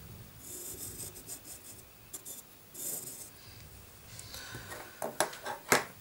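A pencil compass scrapes an arc across paper, several short rasping strokes, close and faint, growing a little louder near the end, with no talk.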